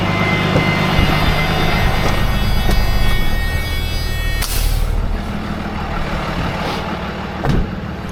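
A heavy truck idles and manoeuvres with a steady diesel rumble, a repeating high reversing beep for the first few seconds, then a sharp hiss of released air brakes midway, with a softer hiss near the end.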